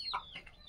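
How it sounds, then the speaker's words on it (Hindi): A chicken gives a brief, close cluck or two on a desi poultry farm, short and fairly quiet. "जैसे मेरे पास प्योर 80 मुर्गे हैं"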